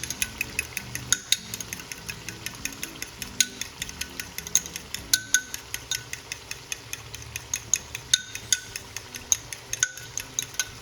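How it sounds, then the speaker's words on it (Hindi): Yogurt curd is whisked in a bowl with a utensil, producing rapid rhythmic clicking taps against the bowl, close and fairly loud, with no voices. "अब दही को मैं फेंट लेती हूँ।"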